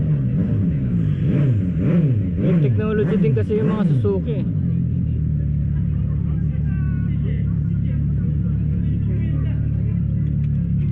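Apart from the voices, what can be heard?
Suzuki V-Strom SX250 single-cylinder motorcycle engine running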